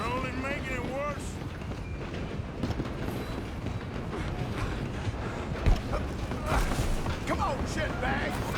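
A moving train in the video game Red Dead Redemption 2 rumbles continuously with rattling cars and wind rush, a steady loud roar beneath shouting characters during a chase.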